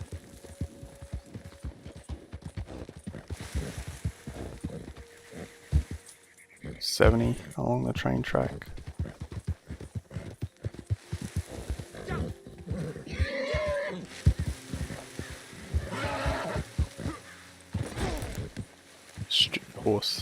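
Horse hooves clip-clop in a steady trotting rhythm along a train track in Red Dead Redemption 2, with bursts of snorting and neighing midway, while someone talks over much of it.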